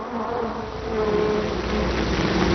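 Honeybees buzz steadily and continuously, a dense droning hum from several insects close by with no voices.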